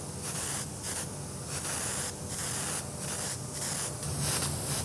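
An airbrush sprays dark gunmetal paint over a black base coat on a prop bow, giving a close, soft continuous hiss that pulses slightly in strength as the trigger is worked.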